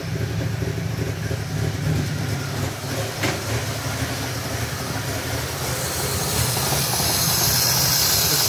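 A 1989 Jeep Wrangler's carbureted engine just after a cold start, idling with a loud, steady rumble and hiss that brightens toward the end.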